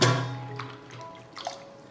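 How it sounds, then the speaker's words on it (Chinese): Washed cauliflower florets lifted out and left to drain, water splashing and dripping in a few soft, close patters that quickly fade to quiet dribbles. "然后捞出来沥干水"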